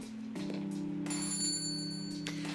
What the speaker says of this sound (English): I entered the store, and the sound of the bell alerting staff to my arrival.